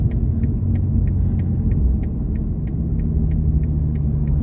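A race car on a circuit at Mireval drones steadily with engine rumble and sits fairly close, heard from inside another car, with a faint regular ticking running through it.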